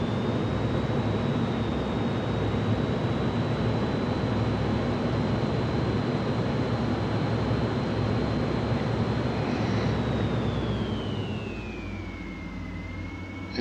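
An F-14D Tomcat jet in Microsoft Flight Simulator 2020, flying over Kuwait City, gives off a loud, constant engine roar with a steady high whine that bends downward near the end as the sound eases slightly.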